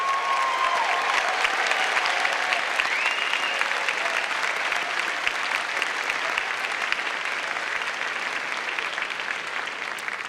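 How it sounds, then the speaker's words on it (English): A large commencement audience applauds the graduates with dense, sustained clapping that holds steady throughout. A faint tone briefly rises over it. "Let's give our master's and advanced certificate graduates a round of applause."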